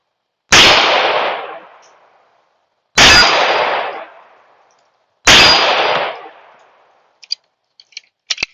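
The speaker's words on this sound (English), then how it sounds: "See if we can hit that steel." Three loud, evenly spaced gunshots each end in a ringing metallic clang from a steel target that decays over about a second, followed by a few faint clicks.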